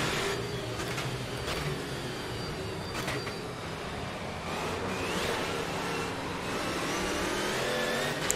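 Engine of a pickup truck in the Automobilista 2 racing game, a continuous steady drone with fluctuating revs that holds through the whole stretch, loud and close with no voices over it.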